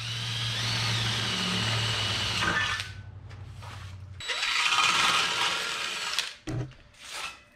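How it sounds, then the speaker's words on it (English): A drill bores pilot holes into a metal U-Haul truck bumper on a 1981 Ford Courier, a whining motor with grinding bursts, stopping and restarting, close and moderately loud. "Get our old pilot holes drilled right here."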